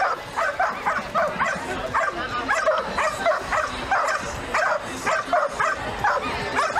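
Several dogs yip and bark in a busy outdoor crowd at a dock jumping competition, the sharp calls repeating in quick bursts and mixing with a steady murmur of people.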